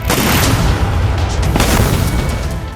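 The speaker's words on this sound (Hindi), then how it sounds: "न धमाकों का शोर थम रहा है" Explosions amid the Israel–Hamas war in Gaza: a loud, continuous barrage of booming blasts and rumbling detonations, with sharper bursts standing out near the start and around the middle, dense and close throughout.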